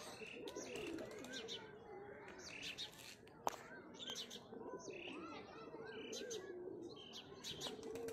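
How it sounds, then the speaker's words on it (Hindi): A large flock of pigeons coos and chirps in layered, overlapping calls close by. A soft background murmur runs underneath, and one sharp tap stands out briefly. "यहाँ पर बहुत सारे कबूतर हैं"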